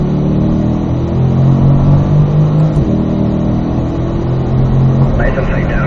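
A Corvette engine revs hard on a race track, climbing in pitch then dropping as the driver downshifts to third gear, loud and close throughout with a voice talking over it.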